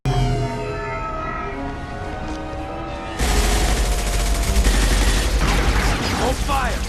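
Heavy gunfire erupts in a Mass Effect 2 battle against rogue mechs after a quieter lead-in, dense and loud with continuous shots and rumbling impacts filling the second half.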